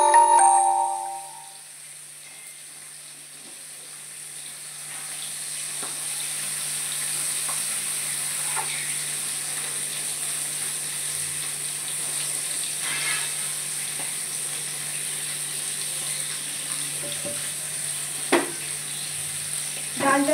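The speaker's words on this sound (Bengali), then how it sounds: "এবার আমি এটাকে ধুয়ে নেবো ডালটা" Moong dal lentils being washed in water, giving a soft, steady wet swishing with a constant hiss and a few small clinks and splashes, close and unaccompanied by any voice.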